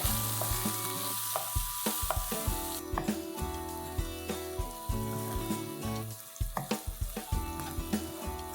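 Finely chopped green chillies, ginger and garlic sizzle in hot oil in a pan for a Maharashtrian buttermilk pithla, with a steady frying hiss broken by repeated clanks of a spoon stirring, close up and with no voices.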